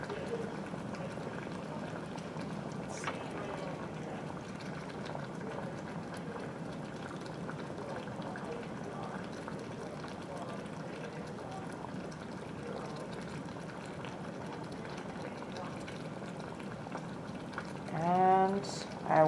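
Low bubbling and churning of a boiling water bath in a chemistry setup, steady and quiet, with a brief clink or rattle near the end.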